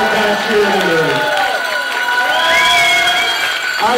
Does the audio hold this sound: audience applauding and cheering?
yes